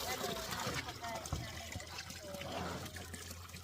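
Water gushing and splashing from a natural spring as containers are filled, a steady turbulent rush with occasional splashes, while people talk over it.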